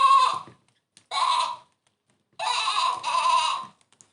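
A toy lamb bleats like a sheep in three bursts, a short one, a second after a pause, then a longer wavering one, close and clear with silence between.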